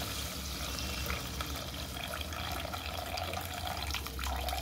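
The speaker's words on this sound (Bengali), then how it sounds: "এই দেখুন জল দিয়ে দিলাম" Hot water pours steadily into a cooking pan holding ridge gourd and boiled eggs, a continuous splashing rush that stays level for several seconds, with no voices.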